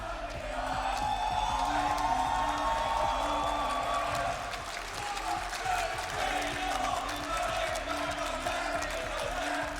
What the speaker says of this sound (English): let this crowd make some noise right now